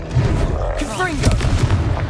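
Blasting spell explosions in Hogwarts Legacy, a fantasy action video game, booming and crackling in dense bursts over a low rumbling backdrop, with voices mixed in across the short stretch.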